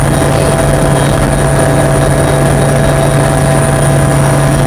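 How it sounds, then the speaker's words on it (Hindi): Helicopter lifting off at an election campaign stop in Ambikapur, Chhattisgarh: a loud, steady rotor and turbine roar with a strong low hum and high whine, close by and dominating throughout. "आप देखिए कि हेलीकॉप्टर ने उड़ान भर ली है"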